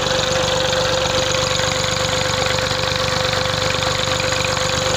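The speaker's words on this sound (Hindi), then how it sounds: "इस पर ट्यूबवेल चला हुआ है।" A tractor engine powering a tubewell water pump runs at a steady idle, a loud, close, continuous rumble with a fast even chugging pulse and a constant whine, with no voices over it.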